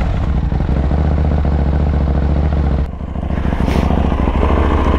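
KTM 890 Duke motorcycle engine running loud and close, a steady low throb with rhythmic clatter, dipping briefly before the rider pulls away with rising revs; no talking.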